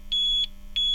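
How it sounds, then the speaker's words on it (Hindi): A home power inverter gives a faint steady beep during a power cut, two sustained tones with a short gap between them over a low electrical hum, used as a horror story sound effect. "सिर्फ इन्वर्टर की हल्की बीप सुनाई दे रही थी"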